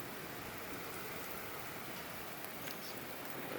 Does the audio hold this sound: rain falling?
yes